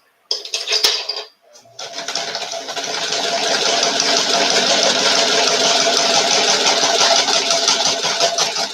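A sewing machine stitches fabric for a groom's vest with pockets, loud and close, starting with a short burst, a brief pause, then running steadily in a continuous whir to the end.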